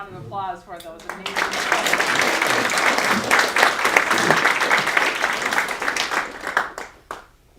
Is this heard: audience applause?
yes